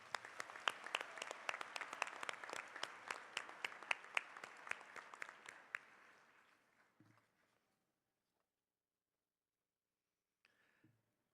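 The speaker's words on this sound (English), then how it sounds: "Please give President Nelson one more round of applause." A college graduation audience applauds President Nelson: dense, sharp clapping that trails off and fades to near silence after about six seconds, with a couple of faint, brief sounds afterward.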